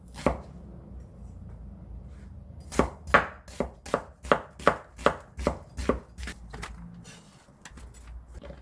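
A knife slices a red chili on a cutting board, about a dozen quick, sharp, evenly spaced chops, close and alone in a quiet kitchen.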